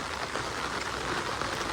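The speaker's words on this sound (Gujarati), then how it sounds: "વરસાદ" Steady, dense rain pouring down close by, an even hiss of drops hitting a surface with no pauses and no voices.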